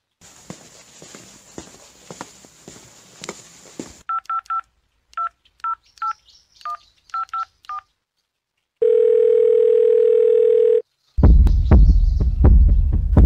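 A telephone call starts with a string of separate keypad dialing beeps in quick groups, then a long steady tone sounds, followed by a burst of loud noisy sound.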